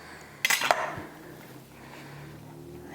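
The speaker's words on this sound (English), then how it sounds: "let's get this burger cut in half so I can give it a taste" A knife cuts through a burger topped with crunchy onion strings, giving a sharp crackling crunch followed by scraping against a plate, then quieter rustling.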